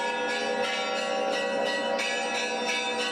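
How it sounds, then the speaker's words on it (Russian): Church bells of the Archangel Michael church in Grozny ring out in a continuous peal, several bells struck in a steady, overlapping rhythm, loud and resonant with no voices. "колокольный трезвон храма Архангела Михаила"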